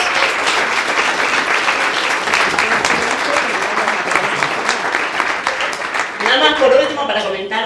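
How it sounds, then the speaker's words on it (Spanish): An audience at an Open Data Day event gives loud, sustained applause for a datathon team and its participants, and a voice speaks over the final moments. "otra vez un aplauso a el Info, al equipo de Estado Abierto, pero sobre todo a los participantes y las participantes del datón"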